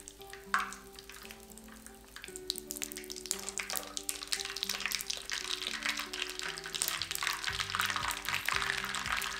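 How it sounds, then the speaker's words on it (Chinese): Pork skin deep-frying in hot oil gives off a continuous crackling sizzle that builds and stays busy and close, with soft music playing underneath. "很快乐的滋滋声"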